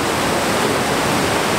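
A big waterfall in the rugged Laurentian Mountains roars as a steady, dense wash of rushing water, loud and close, with no break and no voices.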